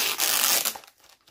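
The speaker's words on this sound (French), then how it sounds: "Alors attendez, je retire le scotch." Adhesive tape is peeled off plastic in one brief, crackly rip lasting about half a second, close and loud, followed by near silence.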